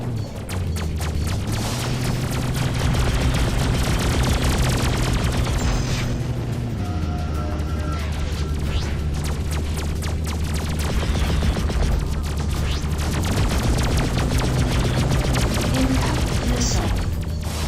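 Explosions boom and crackle in the space combat game Freelancer over a constant droning engine hum and music, while voices speak through the steady, loud mix.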